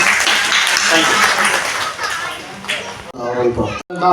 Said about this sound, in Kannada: ಜೋರಾಗಿ ಒಂದು ಚಪ್ಪಾಳೆ ಹೊಡೆದ್ಬಿಡಿ